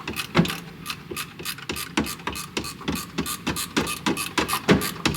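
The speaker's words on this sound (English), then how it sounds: "It's nice having the long wrench, because I can be pretty far back." A long reversible ratchet wrench loosening the upper intake plate bolts on a 2022 Ford 6.7 diesel, giving rapid repeated clicking ratchet strokes, close and loud, with no talking.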